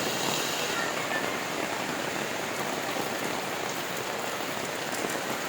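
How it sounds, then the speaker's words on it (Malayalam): Summer rain pours steadily onto surfaces in a dense, even hiss of countless drops, close and continuous throughout with no pauses. "അറിഞ്ഞ പറഞ്ഞ മഴയാണ്,"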